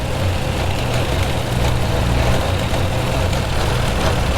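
A Suzuki Samurai engine idles steadily while warming up, with a low, even rumble and a faint whirring fan hum, no talking.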